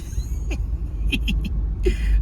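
A Mahindra Thar and a Scorpio N sit with engines running, giving a low steady rumble under several short, high chirping squeaks that come in quick bursts.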